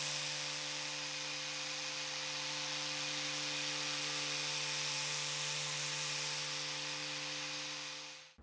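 Steady whirring power sander working back a wooden furniture piece before shellac goes on, a continuous even drone with hiss held at one level and cutting off at the very end.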